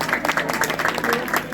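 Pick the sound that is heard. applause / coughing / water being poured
applause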